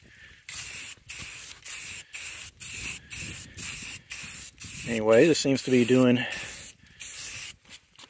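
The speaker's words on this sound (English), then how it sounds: "I'm going to put the camera down and continue spraying." An aerosol spray paint can fires in short repeated bursts, each a sharp close hiss separated by brief pauses, with someone talking briefly over the middle.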